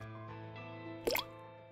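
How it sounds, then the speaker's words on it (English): A small boat-shaped lump of clay drops into a container of water with a single short, soft plop and splash, close by, over a steady low electrical hum. "Now, I will make a boat-like structure with this clay and drop it in water."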